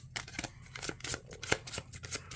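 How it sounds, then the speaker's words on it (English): Marvel Champions card game cards being shuffled by hand, a quick series of soft papery riffles and snaps close up, with no talk. "Then we shuffle these."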